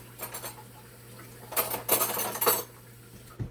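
Metal spoon clinking against dishes while juicing lemon for a homemade apple cider vinegar detox drink, a few light scattered clinks and rattles, louder cluster in the middle, close by with a steady low hum underneath.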